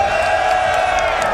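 A large esports arena crowd at a CS:GO match between OG and Entropiq cheers and roars in a steady, loud sustained wash.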